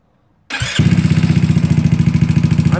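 A GY6 scooter engine cranks briefly after silence, catches and settles into a steady, loud, pulsing idle close by.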